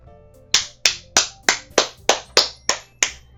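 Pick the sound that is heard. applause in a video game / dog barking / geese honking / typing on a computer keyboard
applause in a video game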